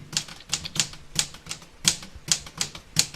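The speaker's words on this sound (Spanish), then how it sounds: "escuchó muy claramente que alguien tecleó sobre la máquina de escribir." Someone typing on a typewriter: sharp, evenly paced mechanical key strikes, about a dozen clacks in a steady rhythm, close and clear with no talking.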